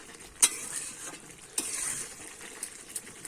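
Boiled potatoes with shrimp and figs are stirred in a pan, with a couple of sharp spoon clinks against the metal and a soft bubbling sizzle underneath, close and without talk.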